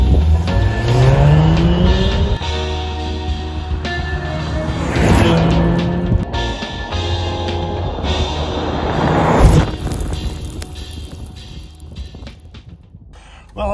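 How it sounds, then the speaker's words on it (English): Salvage-auction Audi with a 4-cylinder engine accelerating hard: loud, sustained engine roar rising through the gears with brief shifts, close and dominant, a faint voice now and then underneath. "Pulls hard. Yikes. Oh my goodness. Much better. Much better. Wow. This is a quick little 4-cylinder."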